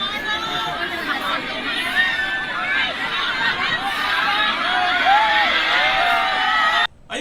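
A dense crowd shouts and chatters in a continuous roar, with overlapping yells rising and falling throughout before a sudden brief cutoff near the end.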